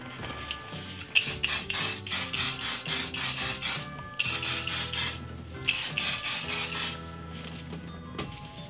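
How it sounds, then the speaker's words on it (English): Hairspray hisses out onto a hairdresser's mannequin head in rapid, repeated spritzes, grouped into three bursts with short pauses between, close and fairly loud. "And now I'm going to take hairspray and fix them."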